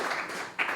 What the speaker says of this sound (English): Give a round of applause for Jarek and Atomic Object.